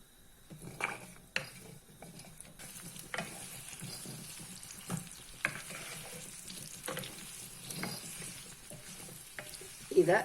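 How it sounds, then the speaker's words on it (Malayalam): Sesame oil heats and sizzles steadily in a pan with mango pieces, crackling, with occasional light clinks of a utensil. "ഈ എണ്ണ കിടന്നൊന്ന് ചൂടായിട്ട്"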